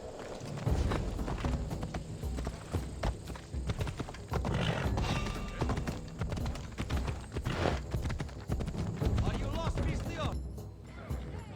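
Steady clip-clop of horse hooves trotting at a regular rhythm in Assassin's Creed Odyssey, fairly close, with a faint game ambience and occasional clinks underneath.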